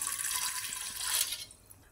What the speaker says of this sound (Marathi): कुकरमध्ये पाणी टाकून घ्यायचं